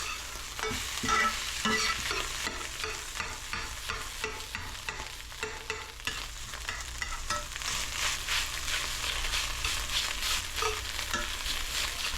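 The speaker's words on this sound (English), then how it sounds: "try not to burn the eggs too much, and break down the eggs while you're at it" Scrambled eggs sizzle and fry in a pan alongside rice while a spatula repeatedly scrapes and breaks up the clumps, a continuous crackle with rhythmic stirring strokes throughout.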